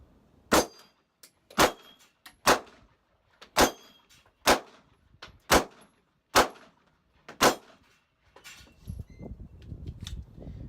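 Eight sharp gunshots from a Smith & Wesson Shield 2.0 9mm pistol at a shooting range, fired at steady intervals about a second apart, loud and close, with faint rustling and handling noise afterward.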